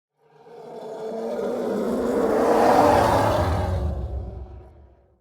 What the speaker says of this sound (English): here is the elephant scream layer that I made from Elephant Sounds from Soundly